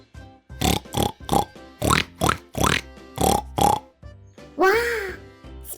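A voice imitates a pig's oinking with a run of rhythmic, grunting syllables followed by a longer, swooping squeal, close and clear.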